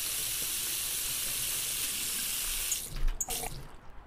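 Steady hissing stream of water pours into a cooking pot in a kitchen cooking simulator game, running evenly and then breaking into a few splashy gurgles before stopping.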